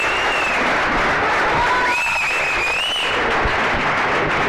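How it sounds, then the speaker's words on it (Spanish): A homebrew beer awards gala audience claps loudly and continuously, a dense wash of applause filling the hall with a few faint voices underneath. "¡Un aplauso!"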